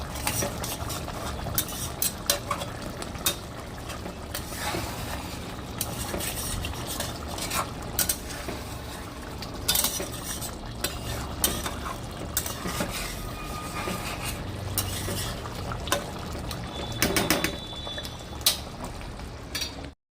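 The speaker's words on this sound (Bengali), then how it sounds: "হালকা হাতে নেড়ে নেবো মাছটা" Parshe fish cooks in mustard oil, gently stirred with a utensil that clicks and scrapes against the pan at irregular moments over a low, steady bubbling simmer.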